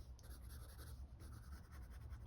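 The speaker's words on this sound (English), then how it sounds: "I love the sound of the pencil." Soft, steady scratching of a pencil moving across paper, faint and continuous with slight rhythmic strokes.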